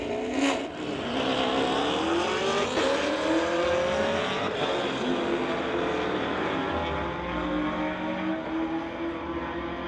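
Two 2017 Chevy Camaros drag racing at a street-legal event, loud sustained engine roar with rising revs and gear changes, continuing for several seconds as the cars run down the strip.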